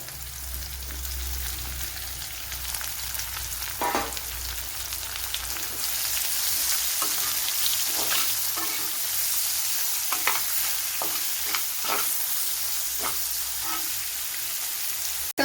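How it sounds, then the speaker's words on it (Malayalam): A medium chopped onion sizzles steadily in hot oil for cauliflower masala while a spoon scrapes and stirs it in the pan, producing repeated clinks over a constant hiss. "ഇതിലേക്ക് ഇനി മീഡിയം സൈസ് ഒരു സവാള ഇതേപോലെ കൊത്തി അരിഞ്ഞെടുത്തിട്ടുണ്ട്, അത് ചേർത്ത് കൊടുക്കുക"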